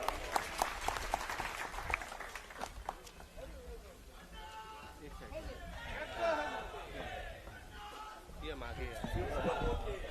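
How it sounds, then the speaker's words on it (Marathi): Applause and crowd chatter from an audience at a political rally in Nandgaon, Nashik, a broad sustained clapping wash that swells and fades, with a voice talking over it. "टाळ्या वाजून"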